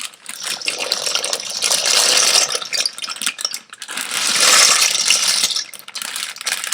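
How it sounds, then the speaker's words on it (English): Dry pasta is dropped into a pot of boiling water, making two loud bursts of hissing, rattling splash with a brief lull between them. "once I actually add the pasta to the water"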